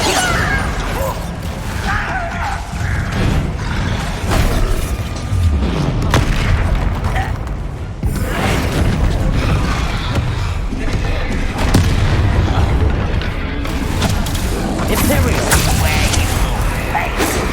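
A Bombarda spell in the Hogwarts Legacy video game sets off a loud explosion among heavy booms and mechanical clanking, with continuous dense combat noise and a voice shouting a spell.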